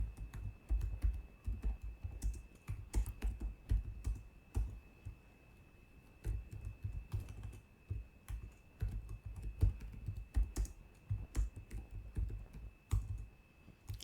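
Someone types Python code on a computer keyboard, tapping steady soft clicks in irregular bursts with brief pauses over a quiet room hum.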